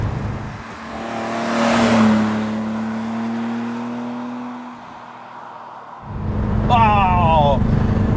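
An unmodified 1973 Datsun 240Z engine revs up loudly, holds a steady drone, drops away, then roars back with a rising gear-change sweep near the end.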